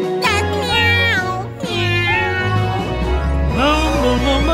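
A voice imitates a cat in a children's animal song, singing a series of drawn-out, melodic meows over a steady musical backing.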